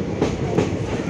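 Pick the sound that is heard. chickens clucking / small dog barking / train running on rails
train running on rails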